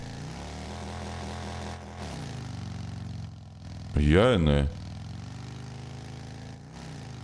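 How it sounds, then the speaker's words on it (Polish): A big engine in the driving game Drive Beyond Horizons runs with a loud, steady drone, then surges in a short revving burst before settling again; a voice briefly speaks. "Bardzo duży ten silnik."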